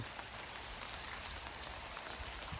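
Rain falls steadily on a warehouse in Phibun Mangsahan, Ubon Ratchathani, a soft, even hiss of drops that stays constant throughout.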